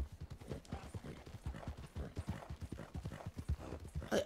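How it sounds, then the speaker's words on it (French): Horse hooves clip-clop in a steady, brisk rhythm in the video game Red Dead Online, close and continuous with no talk over them. "Il a un cheval."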